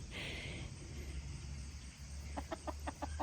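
Small garden hens clucking nearby, a quick run of short rhythmic clucks over a low outdoor rumble, no talking.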